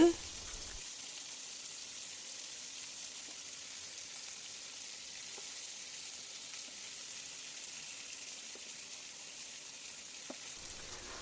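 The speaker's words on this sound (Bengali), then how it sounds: "ভেজে নেব দুই পাশ দেখেন এক পাশ হয়ে আসছে এখন আমি উল্টিয়ে দিলাম মাংসগুলাকে" Chicken pieces fry in a pan with a steady soft sizzle, broken by a few faint clicks as they are flipped, fairly quiet and continuous throughout.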